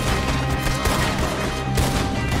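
Dense gunfire crackles in Red Dead Redemption 2, several overlapping shots in a loud, continuous burst with no break across the short stretch.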